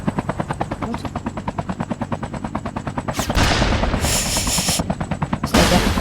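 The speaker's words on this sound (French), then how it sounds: "Monte l'hélico, monte dans l'hélico." Video game helicopter with gunfire, the rotor thumping in a fast steady pulse throughout, then loud bursts of rapid machine-gun fire near the end.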